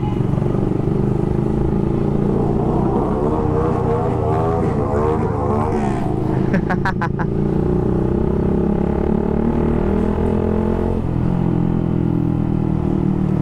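A motorcycle fitted with an SC Project exhaust, dB killer removed, rumbles loud and close during a New Year night ride, with rising and falling revs and a sharp burst of crackling pops midway.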